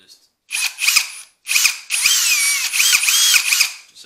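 A power drill bores a small countersink hole for a screw in a wooden canvas stretcher frame, with loud whirring bursts starting and stopping in quick succession, close up.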